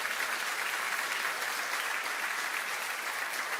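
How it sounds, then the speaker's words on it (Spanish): Steady, dense applause from a large church congregation, continuous and even throughout with no voices standing out. "Dale otro fuerte aplauso al Señor ahora"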